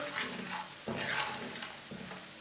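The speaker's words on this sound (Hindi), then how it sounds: "आधा मिनट तक भून लेंगे मसालों को।" Spices for macaroni, including red chilli, turmeric, garam masala and ground coriander, sizzle in a pan with steady frying hiss and a few stirring scrapes, close and quiet.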